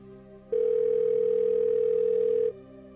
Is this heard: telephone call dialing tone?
yes